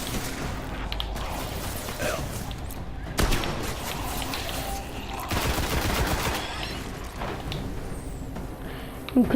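Shotgun blasts in the video game Destiny come as loud, broadband bursts mixed with other combat noise, with one cluster near the start and another stronger one partway through.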